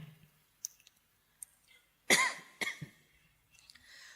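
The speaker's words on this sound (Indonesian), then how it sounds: "Batuk kayak gini terus mikir, jangan-jangan paru-paru saya." A single sharp, close cough with a brief follow-up hack, set among quiet clicks and breaths in an otherwise hushed room.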